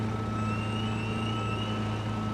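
Truck engine idling and reversing in the port-logistics video game Docked, a steady low diesel drone with a faint high tone gliding above it, constant and fairly close, with no talk.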